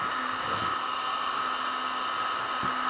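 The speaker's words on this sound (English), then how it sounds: "It'll take a minute for the heat gun to warm up fully and warm the plastic up" A heat gun blows steadily while warming up to soften plastic for a strawberry container build, a constant close airy roar with a faint motor whine, no talking over it.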